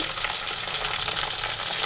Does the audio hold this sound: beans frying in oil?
yes